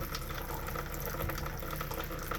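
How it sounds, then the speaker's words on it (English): Water runs from the sink faucets of a travel trailer in a steady, unbroken rush that fills the whole moment at a moderate level, with no voices over it. "run water in sinks to clear out the air"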